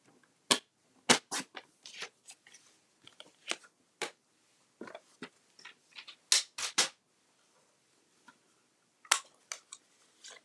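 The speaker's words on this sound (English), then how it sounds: "I'm slipping that into my trimmer, and I'm going to cut this at just under 2 inches" A paper trimmer slicing card stock for a holiday gift tag, heard as a series of sharp, close clicks and quick slicing snaps in irregular bursts, with quiet pauses between them and no talking.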